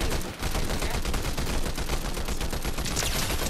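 Rapid, continuous gunshots ring out in a Fortnite match, loud and close, with a dense automatic rattle that barely pauses across the clip and no voices.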